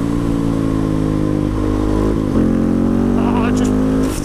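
KTM 690 SMCR single-cylinder supermoto accelerating hard through second and third gear, a loud close engine roar climbing in pitch with a brief dip at a gear change, continuous throughout.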